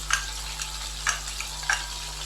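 Chicken in a pan with ginger, garlic and green chilli paste gives a steady low sizzle, and a spoon scrapes and stirs through it in a few distinct strokes, close by with no talking.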